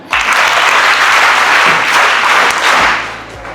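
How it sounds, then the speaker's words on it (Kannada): Schoolchildren applauding a magician at a government school event, a loud, dense burst of clapping from a close crowd that holds steady for about three seconds, then fades. "ಮ್ಯಾಜಿಷಿಯನ್ಗೆ ಚಪ್ಪಾಳೆ ಹೊಡಿರಿ."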